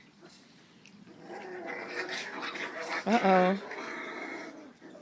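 Four-week-old puppies outdoors give small growls and whimpers while playing, a brief squealing yelp near the middle, under a woman's short exclamation and her close, soft talk.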